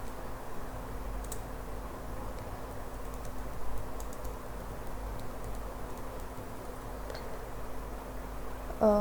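Soft keyboard typing while Python NumPy code is entered, faint scattered key taps over a low steady hum, no voice.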